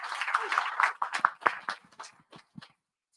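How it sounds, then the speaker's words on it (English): At a tech show-and-tell event, a small audience claps to welcome a speaker, a scattered round of separate claps that thins out and stops within about three seconds. "Big round of applause."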